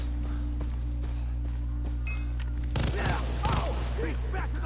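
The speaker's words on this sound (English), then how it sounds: "He's shooting at me." Enemy gunfire in Far Cry 3, bursts of sharp shots clustered in the second half over a steady hum, fairly close and loud.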